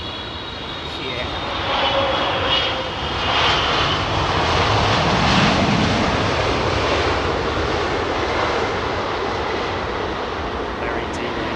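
Boeing 777-300ER jet engines running at idle with no thrust reverse, a steady broad airliner roar holding level throughout, with faint voices underneath.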